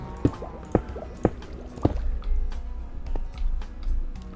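Water placed into a dug-out hole in Minecraft, heard as a few sharp wet splashes and drips in a steady rhythm, then softer gurgling and sloshing as the liquid settles, close and moderately loud with no talking.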